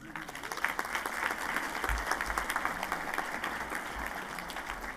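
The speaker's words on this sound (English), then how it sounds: "Give them a round of applause for that." A steady round of applause at a Warner Pacific University spring commencement, many hands clapping together at moderate level, with a few low thumps beneath the continuous patter.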